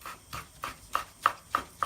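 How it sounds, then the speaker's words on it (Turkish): Curly lettuce being cut on a board with a knife, a quiet, even series of about seven light crisp chops in quick rhythm, close and alone. "Şimdi öncelikle kıvırcıklarımı doğramakla işe başlayacağım."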